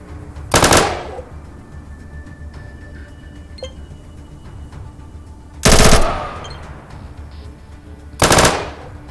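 Gunfire from pistols and SMGs in the video game ATOM RPG: three loud, sharp bursts of rapid shots, each followed by a short ringing tail, spaced out against quiet background ambience.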